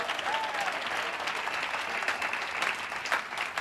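A church congregation at a consecration ceremony claps steadily throughout, at moderate level, with faint voices and cheers mixed in.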